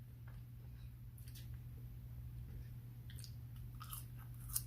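Someone bites into slightly cold, soft fries and chews them close to the mic, with faint, scattered crunching and moist mouth sounds over a low steady hum.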